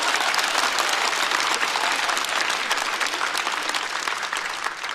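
Steady applause from a stand-up comedy audience, a dense wash of clapping that holds evenly for several seconds with no voices over it.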